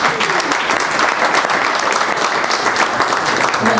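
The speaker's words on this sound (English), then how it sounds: "Big applause for Tracy." A panel audience at a Davos crypto event claps for the moderator, loud and steady with many hands at an even, dense level from start to finish.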